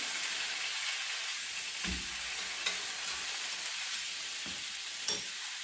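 Pork ribs sizzle steadily in a hot pan while being turned for a pickled cabbage dish, a constant close frying hiss broken by a few sharp pops and clatters from stirring.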